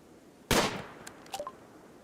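A single sharp gunshot from the Rimworld video game cracks out loud, its echo trailing off, followed by a few faint, brief in-game clicks.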